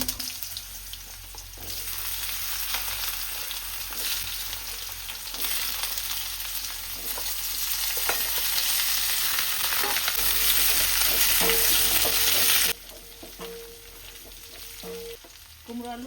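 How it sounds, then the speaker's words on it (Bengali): Panch phoron spices hit a smoking-hot kadai and crackle in a dense, loud sizzle that swells over several seconds, then drops abruptly to a quieter fry with faint clinks near the end. "কড়াইটা একদম গরম হয়ে ধোয়া উঠছে এখানে দিয়ে দিলাম পাঁচ ফোড়ন"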